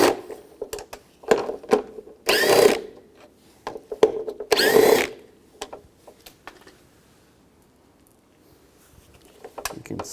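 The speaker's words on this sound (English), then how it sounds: "Take these 3 bolts out, use an 8mm socket." An 8mm socket loosens bolts during a window motor replacement on a 2004-08 Nissan Maxima driver's door, giving two loud ratcheting bursts among sharp clicks and knocks, then quieter handling noises.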